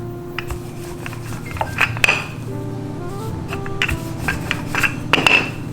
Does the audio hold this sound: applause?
no